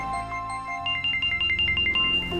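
A mobile phone rings in an Indonesian drama scene, a repeating bright electronic ringtone pulsing steadily over a low background hum, fairly loud and close with no talk over it.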